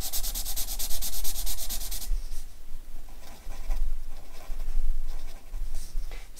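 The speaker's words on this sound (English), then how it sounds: "If you're using felt tip pens to do light colour, try using dots rather than just straight colouring in." A felt tip pen taps dots onto paper in quick, close, rapid bursts, loudest at the start, then lighter scattered taps follow.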